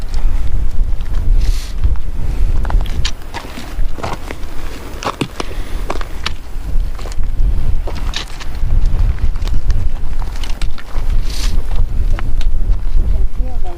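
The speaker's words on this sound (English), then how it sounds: "You can feel the wind here." Wind buffets a microphone on the Arroyo Trail in the Organ Mountains, New Mexico, a constant low rumble throughout with footsteps, scuffs and people talking over it.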